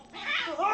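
A single short Siamese cat meow, rising and then falling, close and fairly clear.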